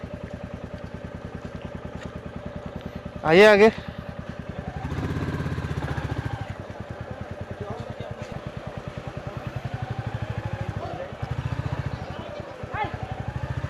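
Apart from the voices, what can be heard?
motorcycle being ridden and parked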